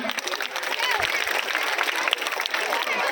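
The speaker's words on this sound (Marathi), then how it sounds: "एकदा जोरदार टाळ्या होऊन जाऊ दे यांच्याकरता" A school program audience claps in a dense, sustained burst of applause, with a voice talking over the crowd.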